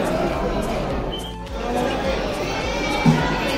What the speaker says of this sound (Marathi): खूप गर्दी, फुल क्राऊड आहे.